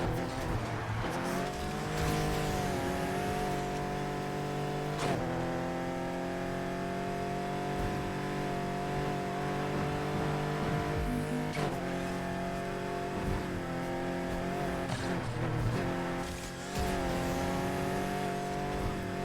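Cars race in the video game Need for Speed Heat, with sustained engine roar rising and falling through gear shifts, revving accelerations and occasional tire squeals, continuous and loud with no talk.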